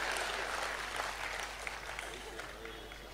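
An audience claps at a Tamil public speech or debate event, steady dense applause from a sizeable crowd heard at a distance, fairly faint, with a speaker's voice faintly over it.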